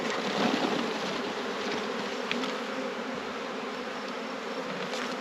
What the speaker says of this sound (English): I'm going to shake most of these bees in.